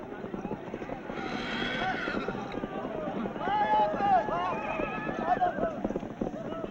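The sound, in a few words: horses galloping in Afghan buzkashi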